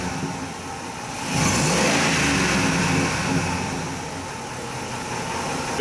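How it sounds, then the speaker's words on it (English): Engine revs sharply in repeated snap-throttle blips while diagnosing trouble code P2270, rising from a steady idle to a loud, sustained roar and then settling back, with no talking. "I'm going to do some snap throttles where I rev it"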